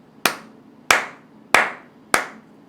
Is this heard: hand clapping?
yes